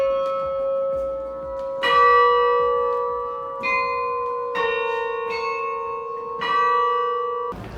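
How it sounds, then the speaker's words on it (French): Carillon bells ring in a belfry in northern France that holds 42 bells: successive bright tuned strikes with long overlapping resonant decay, loud and close, no voices. "on a 42 cloches qui sonnent toutes les 15 minutes"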